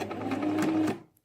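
A sewing machine stitches a fabric bag organiser in one steady, continuous run of close, fast-paced needle hum that stops abruptly near the end, followed by a short click.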